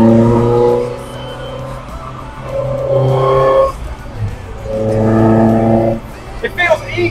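A classic Ford build's engine revs hard while driving, climbing in pitch toward the rev limiter in two long pulls, loud and close, with people talking over it inside the car.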